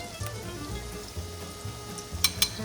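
Schnitzels fry in a medium pan with a faint, steady sizzle and crackle, broken near the end by a couple of brief, sharper spits or clinks.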